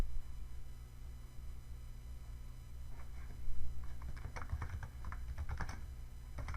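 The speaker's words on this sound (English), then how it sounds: "We're typing in that name" Clicky computer keyboard typing, a short run of keystrokes entering a name, fairly close over a steady low hum, with no talking.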